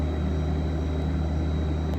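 Large sludge return pumps at a wastewater treatment plant, heard as a loud, steady, low droning roar with constant mechanical hum and no pauses.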